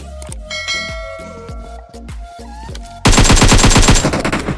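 Gunfire in the mobile battle royale PUBG Mobile: loud rapid bursts of shots with metallic ringing, ending in a sustained dense automatic volley, with no voices.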